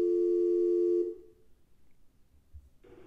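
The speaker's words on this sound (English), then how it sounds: "We'll try to dial into the trigger number here." A call being dialed to a Cisco UCCX trigger number: a steady telephone tone rings for about a second, then cuts off into a quiet line with faint noise before another brief tone rises at the end.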